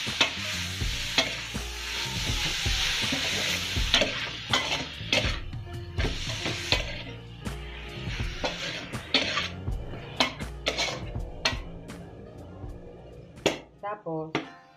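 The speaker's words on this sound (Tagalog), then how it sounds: "Lalagay na natin yung ground pork." Ground pork sizzling and frying in a pan while being stirred, with steady sizzle, scraping and clinks of a utensil against the pan, as people talk over the cooking.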